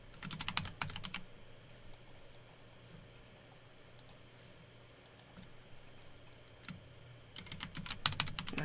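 Code typed from scratch on a computer keyboard, quick bursts of close key clicks at the start and end with a quieter stretch of sparse taps between, over a low steady hum.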